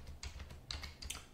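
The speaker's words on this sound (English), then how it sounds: "you can manually type it in" Quick bursts of keystrokes on a computer keyboard while a website address is typed, soft, close and irregular clicking with brief pauses.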